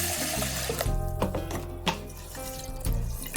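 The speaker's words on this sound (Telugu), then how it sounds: "ఇప్పుడు కందిపప్పుని 2 సార్లు శుభ్రంగా కడుక్కుందాము." Tap water runs steadily into a vessel as toor dal is washed, with splashing and sloshing as the lentils are stirred, close and continuous.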